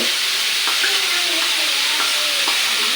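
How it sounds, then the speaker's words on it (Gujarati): Garlic goes into onions frying in a pan, a steady, loud sizzle with a few spoon-stirring scrapes spaced through it. "ઓકે, લસણ આપણે ઉમેરે છે અત્યારે"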